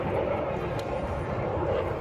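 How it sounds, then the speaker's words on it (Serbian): A J-22 Orao attack aircraft flies overhead after taking off from Lađevci airfield, its jet engine giving a steady, loud, broadband roar that holds through the whole moment without a break. "Jurišni avioni J-22 Orao su poleteli sa aerodroma Lađevci"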